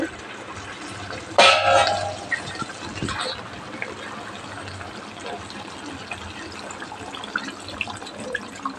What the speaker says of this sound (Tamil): ஒரு அரை அரை டம்ளர் அளவுக்கு தண்ணி சேர்த்து